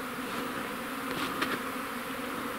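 Honeybees buzz around a horizontal hive on an early spring cleansing flight, a steady close hum of many wings with a few louder passes near the middle.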